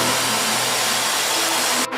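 A Lexus IS250 running with no muffler or resonator gives a loud, raspy, steady engine roar up close, cutting off abruptly just before the end.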